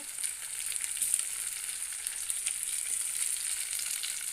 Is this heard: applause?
no